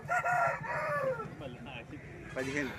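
At a poultry market in Mamidada, a rooster crows loudly and close by, one long strained call that rises and falls, followed by a shorter second crow near the end.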